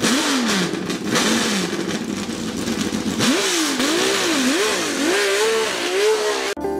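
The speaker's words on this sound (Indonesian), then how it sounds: "Salah satu mesin V12 dibenamkan ke dalam Honda RA300." A Honda RA300 Formula One car's V12 racing engine revs loudly and close, rising and falling in repeated sweeping wails before cutting off abruptly at the end.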